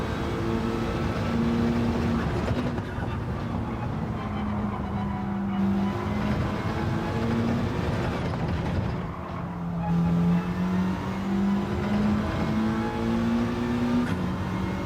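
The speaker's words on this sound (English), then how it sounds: "Just as you start to hear the engine complain." Race car engine in Gran Turismo 7 straining at high revs, a loud sustained whine that rises and dips with gear changes, continuous throughout with no talk over it.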